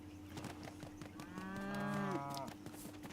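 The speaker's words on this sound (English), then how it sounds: "Why does that cow just look really weird?" A cow in the Lego Fortnite video game gives one clear, drawn-out moo lasting about a second, rising and falling over a quiet game background with soft ticking sounds.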